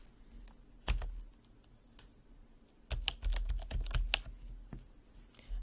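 Typing on a computer keyboard in short, irregular bursts of quiet, close keystrokes, with a few isolated clicks and brief pauses, and no talking.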